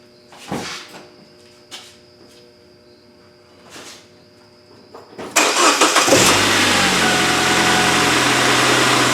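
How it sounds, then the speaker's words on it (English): A 2003 Saab 9-3 engine cranks and fires after a few quiet knocks, then settles into a steady, loud idle close by. "And we'll start the car."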